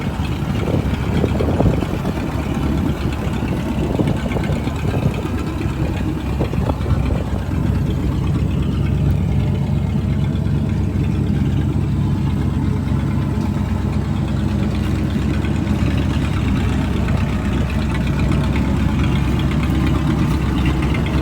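A 1968 Ford F-250 pickup engine idles steadily, a loud, continuous low rumble with a rough, uneven throb that holds throughout without any talking.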